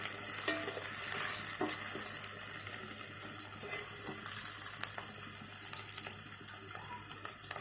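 Fish sizzles steadily in a hot pan while being stirred, a continuous close frying hiss broken by scraping stir strokes and faint watery clinks, with no talking.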